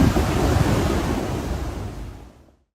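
Ocean surf roars loud and broadband onto the shore, then fades out quickly toward the end.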